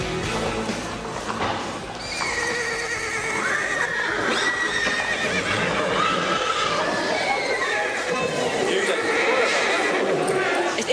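Horses in a barn full of animals neigh and whinny repeatedly over a dense background of stamping, hoof clatter and low crowd murmur, the calls rising and overlapping fairly close by.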